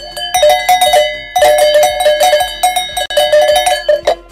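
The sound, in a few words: cowbells struck with shepherd's crooks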